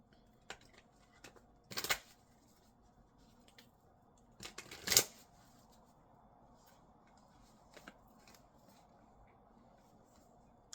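Rune cards are shuffled and drawn in a quiet room, giving a few soft papery riffles and flicks spaced apart against near silence.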